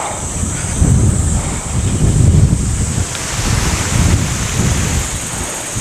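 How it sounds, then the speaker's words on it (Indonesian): Strong wind buffets the microphone in a rural Japanese countryside setting, a loud continuous rumbling roar with gusty swells rising and falling throughout, no talk. "Anginnya kenceng lur"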